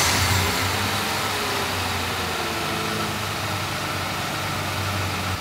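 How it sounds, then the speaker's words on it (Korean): A Kia Carnival gasoline minivan engine starts and idles steadily with a low, even hum throughout, moderately loud and continuous, with no talking. "먼저 가솔린 차량의 시동을 한번 걸어 보도록 하겠습니다."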